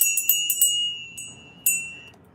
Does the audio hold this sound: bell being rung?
yes